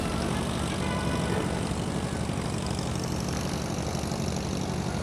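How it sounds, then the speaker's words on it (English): Two propeller airplanes take off side by side, their engines forming a loud, continuous droning roar with no break throughout. "We have two planes taking off right beside each other."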